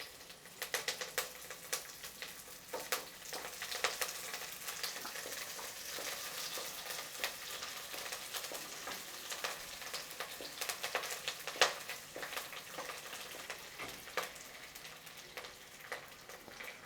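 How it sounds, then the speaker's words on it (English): Green chilli and curry leaves sizzle and crackle in hot oil for a Kerala fish curry, a steady close frying hiss with scattered sharp pops throughout, no voices. "Give it a nice saute"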